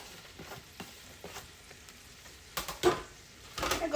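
Onions and broccoli stir-frying in a pan with carrots for a Chinese veggie stir fry: a quiet steady sizzle broken by several sharp scrapes and tosses that grow louder near the end, with no talk.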